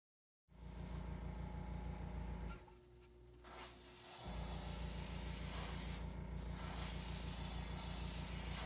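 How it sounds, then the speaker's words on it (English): Airbrush spraying Tamiya Fine White Primer onto a Hasegawa 1/32 P-12E model, a steady close hiss with a compressor hum underneath, pausing briefly midway before resuming. "I am using Tamiya Fine White Primer, which I've decanted into my airbrush"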